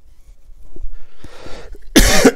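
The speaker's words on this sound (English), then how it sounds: "Excuse me if I keep coughing." A person coughs a few times, close and loud, with a soft breathy rasp before a sharp burst of harsh coughs at the end.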